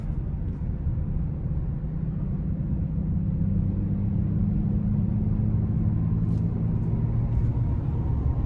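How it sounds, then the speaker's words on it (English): A 2023 Audi S7 Prestige with a 2.9-litre twin-turbo V6 accelerates on a test drive, its engine a steady, loud low drone that rises in pitch partway through, heard from inside the cabin with no talk. "give her a little throttle here with the sport shifts going on"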